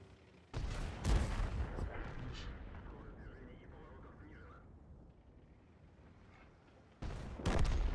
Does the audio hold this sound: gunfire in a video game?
yes